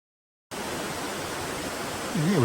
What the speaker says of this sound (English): And here we are, crossing a brook